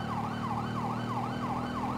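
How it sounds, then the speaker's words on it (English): San Antonio police car sirens wail in a fast, regular up-and-down cycle, two units sounding in sync, loud and continuous over a low road hum with no talking. "Oh, our sirens are in sync."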